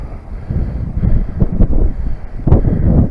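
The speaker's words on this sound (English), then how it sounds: "Oh, the wind might get up." Wind buffets a microphone outdoors on the Oban seafront in Scotland, a steady low rumbling roar with louder gusts swelling and fading throughout, and no voices.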